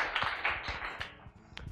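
A few scattered, uneven handclaps from a small group at a student association event, sparse and fairly quiet, with distinct individual claps over a short moment.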